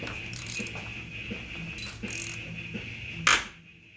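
Wrench tightening a fitting on a MazdaSpeed6, heard as scattered light metallic ratcheting clicks and small clanks over a steady garage hum, ending in one louder sharp clank.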